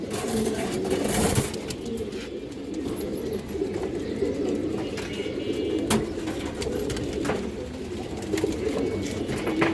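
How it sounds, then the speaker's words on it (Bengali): Close, low cooing of a China Khaki male pigeon, repeated in rolling bursts over several seconds, with occasional clicks and faint background traffic. "খুবই চঞ্চল কবুতর চায়না খাকি নর কবুতর দেখেন"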